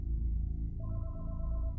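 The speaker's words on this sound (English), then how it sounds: "Then, the phone in the house began to ring" A house telephone starts ringing partway through, a steady electronic warble that enters over a low, rumbling background bed and continues to the end.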